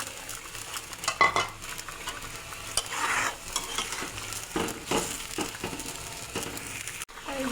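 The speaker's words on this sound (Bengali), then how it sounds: "ঝোল ফুটে গেছে, ভেজে রাখা মাছ দিয়ে দেবো।" Fried tengra fish with potatoes goes into a boiling curry gravy, heard as a bubbling sizzle with irregular stirring scrapes and utensil clinks, including a sharp knock near the end.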